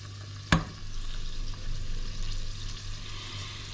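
Onions sautéing in a pan for cream of mushroom soup, a soft steady sizzle with one sharp clack of a utensil early on, fairly quiet with a low hum underneath.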